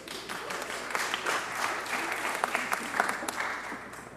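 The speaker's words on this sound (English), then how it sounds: "Was that the applause from the attorneys in the crowd when they mentioned the compensatory fees?" Steady applause from a crowd at a public meeting where attorneys are present, many hands clapping in a continuous, even wash at moderate distance with occasional sharper individual claps standing out.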